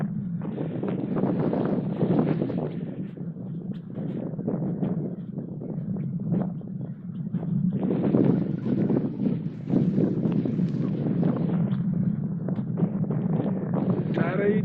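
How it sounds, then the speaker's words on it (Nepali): Strong wind roars and buffets the microphone in continuous gusts on an open grassy hilltop at Devil's Dyke near Brighton, loud and steady throughout. "एकदम हावा चाहिँ एकदमै लाग्ने रहेछ यो ठाउँमा चाहिँ"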